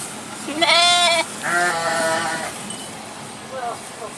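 Merino sheep at an agricultural expo in Sukoharjo bleat close by: two long, wavering bleats in quick succession, then a shorter one after a pause, with faint background murmur.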